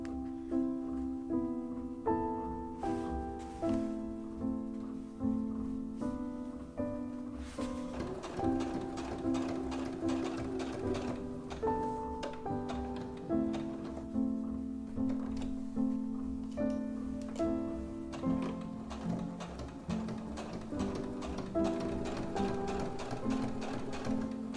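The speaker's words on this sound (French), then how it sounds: "Donc on va la coudre ici au point droit en étant proche du bord" A sewing machine runs a straight stitch along the edge of a small bag pocket, its rapid needle ticking steady and close, broken by brief pauses and restarts over about twenty-five seconds, with no talking.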